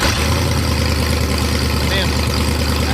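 A 1964 Chevy Nova engine runs at a steady, rough idle with a small exhaust leak, a deep continuous rumble close by, with voices talking over it.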